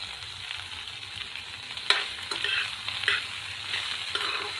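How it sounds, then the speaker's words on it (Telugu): Food fries in a pan over a medium flame with turmeric and salt, giving a steady, close sizzle with occasional stirring scrapes and no voices. "ఈ విధంగా మీడియం ఫ్లేమ్ మీద మనం వీటిని ఫ్రై చేస్తున్నామండి."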